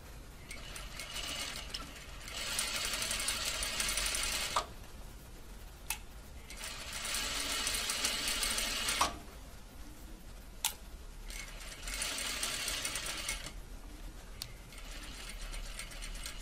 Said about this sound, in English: we'll do a plain seam going down